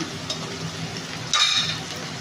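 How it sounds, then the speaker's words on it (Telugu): Onions frying in a pan for chicken fry biryani make a soft continuous sizzle, with a brief brighter hiss and spatter toward the end and no talk. "మనకు ఆనియన్ ఫ్రై అవ్వాలి"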